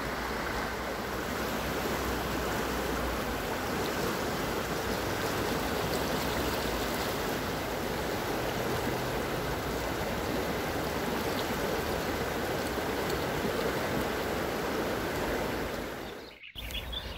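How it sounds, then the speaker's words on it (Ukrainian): Water rushes and burbles continuously, a close, steady stream flowing out from under a sycamore maple, filling the whole stretch, briefly cutting out near the end. "а ось водичка, яка тече з-під явора."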